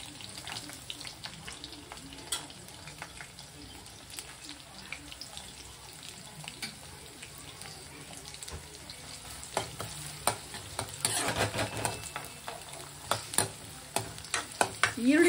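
Onions frying in a pan with mustard seeds and curry leaves give a steady low sizzle, broken by frequent sharp scraping and stirring clicks of a spoon against the pan that grow busier toward the end.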